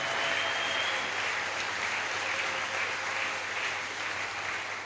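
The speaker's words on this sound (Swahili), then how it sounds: "Acclame fort pour la parole." A church congregation at a Sunday service applauds, a dense, sustained clatter of many hands that stays loud and even throughout, with no voices over it.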